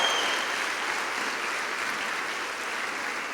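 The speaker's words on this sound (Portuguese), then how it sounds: "Quem pode aplaudir a Deus e bradar de vitórias?" A church congregation applauds God during a service, a soft, even, distant wash of clapping that fades slightly toward the end and has no voices over it.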